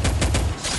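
Rapid bursts of dual-pistol gunfire in a video game, several sharp shots in quick succession, loud and close, with no talking.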